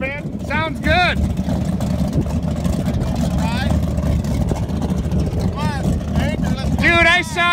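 A fiberglass motorboat's engine drones steadily and loudly throughout, with bursts of nearby chatter and laughter over it.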